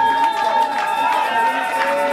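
A crowd at a royal enthronement ceremony for a cultural prince cheers and acclaims, a loud, continuous roar of voices with sustained tonal shouts or ululation layered over it.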